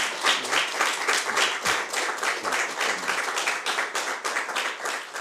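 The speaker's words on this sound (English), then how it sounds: "so I'd like to applaud him." An audience at a city event for the appointment of a new police chief applauds steadily, a dense wash of hand claps at moderate distance with no talking over it.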